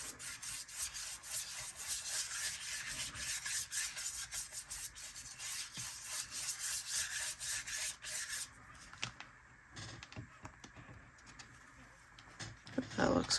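Dye rubbed by hand onto a journal signature page, a soft continuous scratchy rubbing close up, steady for several seconds before thinning out into a few scattered strokes and light handling noises.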